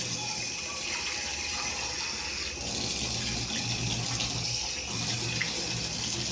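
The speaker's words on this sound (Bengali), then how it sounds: "দেখো এবার আমি জল ছেড়ে দেবো।" Water is poured from a tap into a cooking pot while a dish is being cooked, making a steady rushing stream at moderate level throughout, with no talk.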